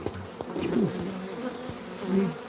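Bees or wasps buzzing steadily at a hive, a close, continuous drone with wavering pitch that swells and fades as insects pass near, heard alone without voices.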